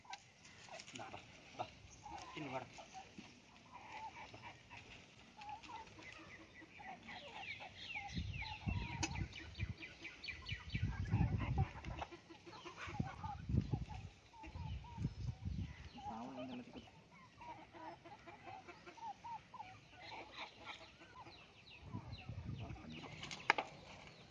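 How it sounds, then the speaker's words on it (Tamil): Peruvidai country chickens on a farm cluck and murmur steadily at close range, with a few louder bursts of fowl calls midway and faint background activity throughout. "இது வந்து பார்த்தீங்கன்னா எல்லாமே பெருவிடை கோழிகள்."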